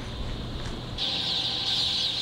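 Newly hatched chicks, about three hours old, fill a poultry house with a dense, steady chorus of high peeping that swells louder after the first second, with no talk over it.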